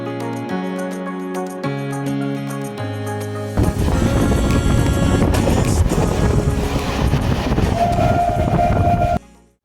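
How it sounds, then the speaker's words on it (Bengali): A local train runs into Krishnanagar station, with tonal, horn-like notes at first, then a loud, steady rumble and rattle of the carriages that fills the rest of the clip. "আমাদের ট্রেন এখন কৃষ্ণনগর ঢুকে গেছে।"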